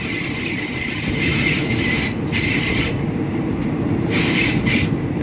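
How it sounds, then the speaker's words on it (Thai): Steady rumble of a train rolling through Ban Kluai railway station in Ratchaburi, Thailand, with bursts of high metallic wheel squeal and a constant low clatter throughout; no voices. "บรรยากาศนะครับที่สถานี รถไฟบ้านกล้วย จังหวัดราชบุรี"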